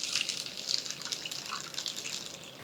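Water pours into a bowl of barnyard millet (varai) and sago as the batter base is prepared. The pour is soft and faint, a thin steady splashing trickle with no voices.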